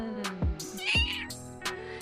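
A house cat meows a few times up close, drawn-out tonal cries separated by short pauses, with quiet room sounds in between.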